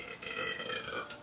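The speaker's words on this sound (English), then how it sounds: "Oh, that was a good burp." A single close, drawn-out human burp, loud and throaty, lasting about a second with no speech over it.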